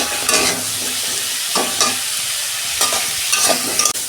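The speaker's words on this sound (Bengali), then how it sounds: "এই যে সবজিটা আমি অল্প নুন দিচ্ছি, 2 মিনিট ভেজে নেবো সবজিগুলো" Vegetables stir-frying with a little salt and turmeric in a home kitchen, a steady sizzle broken by a few brief scraping stirs of the spatula at intervals.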